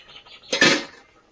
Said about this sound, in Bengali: ঢাকনাটা খুলবো,